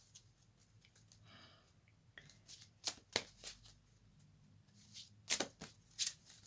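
Oracle card deck shuffled by hand, a run of soft papery riffles and several sharp slapping bursts of cards, close and fairly quiet over a faint background hum, with no talking.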